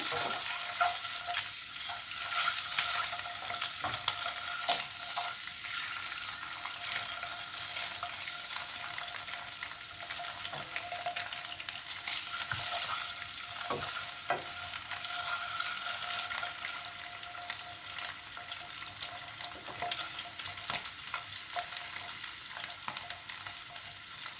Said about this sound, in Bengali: ডিমগুলো কীভাবে ভাজতে ভাজতে এর মধ্যে দিয়ে দেবো অল্প হলুদ